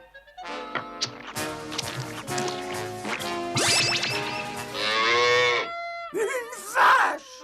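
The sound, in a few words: cow mooing in a Smurfs cartoon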